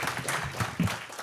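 Clapping from a civic audience thanking city staff at a State of the City address: dense, steady applause across the short stretch, moderately loud with no clear voices.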